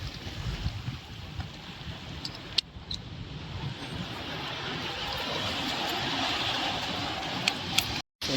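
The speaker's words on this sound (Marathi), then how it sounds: "समुद्राच्या लाटा बघा" Sea waves wash along the Konkan shore on a windy morning, a steady broadband surf roar that swells gradually louder over the stretch, with no voices and only a brief dropout near the end.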